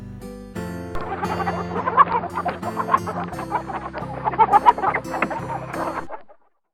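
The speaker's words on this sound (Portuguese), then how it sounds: "Sabemos que os galos são conhecidos por cantarem todos os dias ao amanhecer" A farm rooster crows loudly and close by, its call mixed with clucking, running steadily for about six seconds before cutting off into silence.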